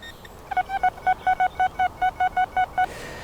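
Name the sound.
metal detector signal tone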